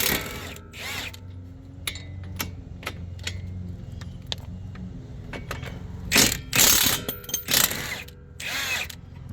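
A ratchet undoes the 22mm strut-to-spindle bolts on a 2020 Toyota Corolla, close clicking ratchet strokes in bursts with metallic clanks and tool handling noises in between.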